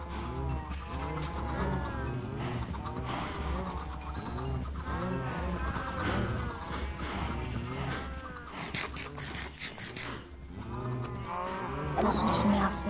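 Cows mooing in the Minecraft video game, their low calls mixed with a voice talking and steady background game sound throughout.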